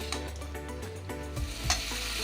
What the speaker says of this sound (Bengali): এবার দিয়ে দেব এই ঢ্যাঁড়স আলু ভাজাটা।